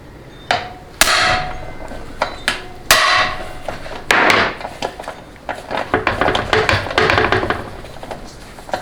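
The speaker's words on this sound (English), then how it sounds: "Torque it slightly counterclockwise, and then start whacking on it." Hammer blows striking a tool on a fastener in a 4L80E transmission teardown, sharp metallic whacks, a few spaced hits and then a quicker run of taps, close and loud.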